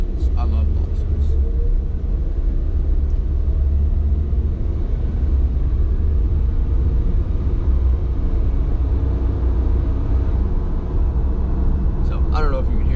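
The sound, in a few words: car engine with small turbo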